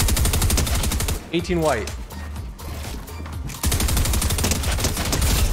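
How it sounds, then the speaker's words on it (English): Combat SMG in Fortnite fires long, rapid automatic bursts at close range. The rattle stops briefly while a voice speaks, then the sustained fire resumes. "I'm going to show you how powerful the combat SMG is."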